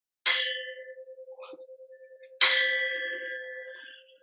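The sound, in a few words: bell ringing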